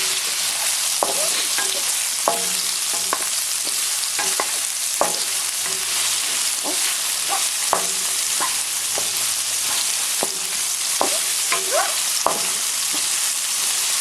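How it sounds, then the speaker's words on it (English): Lemongrass fries on high heat in a pot with ginger for Vietnamese beef stew. There is a steady close sizzle broken by scattered sharp clicks and scraping stirs. "Now I'm going to add the lemongrass."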